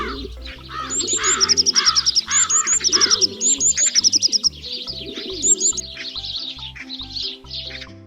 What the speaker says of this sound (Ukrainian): Як же весело щебечуть пташки. Ось тільки послухайте.